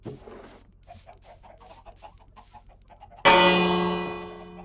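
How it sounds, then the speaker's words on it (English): After a stretch of faint background noise, a single bright bell strike in a Minecraft village rings out loudly and slowly fades. "Let me ring the bell."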